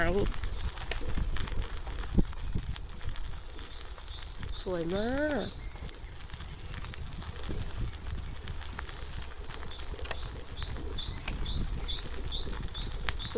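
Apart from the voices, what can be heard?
birds singing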